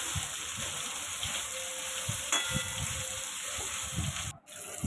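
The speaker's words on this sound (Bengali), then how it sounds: "কিছুক্ষণ তেল গরম হওয়ার পর সয়াবিনটা কড়াইয়ের মধ্যে দিয়ে দেবো" Soybean chunks fry in hot oil in a wok, a moderate sizzling hiss with soft bubbling pops, alongside a steady faint high whine and a brief break near the end.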